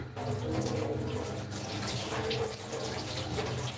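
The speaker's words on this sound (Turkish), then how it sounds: "Hadi yıka elini." Tap water runs steadily into a sink as hands are washed beneath it, a continuous close splashing rush with no talk.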